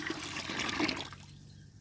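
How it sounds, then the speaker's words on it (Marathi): Water is poured from a pot into a large cooking vessel, a short gushing splash and trickle that fades away quickly into quiet. "आता आपल्याला कळशी भरून पाणी घातले मी"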